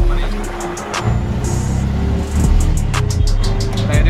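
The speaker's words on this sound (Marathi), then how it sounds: "आम्ही आता मेट्रोमधून उतरून डायरेक्ट रिक्षामध्ये बसलोय आणि रिक्षाने चाललोय" An auto rickshaw carries passengers through Pune streets, its engine giving a loud, continuous rumble with bursts of traffic noise and rattling, heard from inside the moving vehicle.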